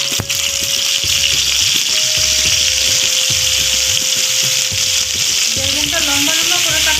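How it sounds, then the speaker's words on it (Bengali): Eggplant frying in a small amount of hot oil gives a loud, steady, close sizzle with rhythmic stirring or scraping knocks underneath, continuing without pause. "তেলটা গরম, তেল গরম হয়ে গেছে, এই বেগুনটা দিলাম।"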